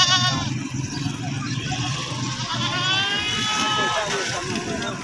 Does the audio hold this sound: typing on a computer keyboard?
no